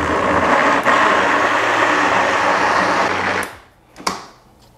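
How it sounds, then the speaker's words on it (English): An upside-down blender whirs steadily at high speed, blending avocado with condensed milk and milk, loud and close for several seconds before cutting off, followed by a couple of clunks. "this is an upside down blender and we need the milk to be here to help blend out everything nicely"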